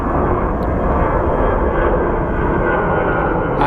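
A Frontier airliner jet at Phoenix Sky Harbor airport produces a steady, loud broadband engine roar that holds evenly throughout, with no talk over it.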